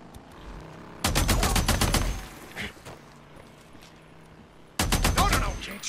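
Gunfire in the video game Days Gone, two loud bursts of rapid shots, the first lasting about a second and the second near the end, separated by quieter game ambience.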